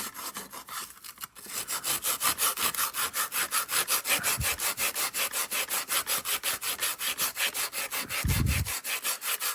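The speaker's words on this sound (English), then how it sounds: "So let's start Scotch-Briting it." An RC truck body scrubbed with a Scotch-Brite pad during patina paint prep, a loud, steady back-and-forth rasping rhythm close up, with a couple of brief low knocks.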